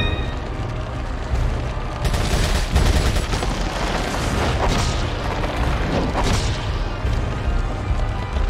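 Magnum shots ring out during the Salazar boss fight in Resident Evil 4 HD, loud booming blasts that start after a quieter stretch and repeat among ongoing heavy in-game gunfire and impacts.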